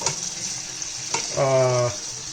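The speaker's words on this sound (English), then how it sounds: "Just going to give it a gentle mix. Now these tomatoes are going to cook" Tomatoes cooking in a pan are gently mixed, giving a continuous close sizzle with a couple of soft stirring taps and a short squeaky tone partway through.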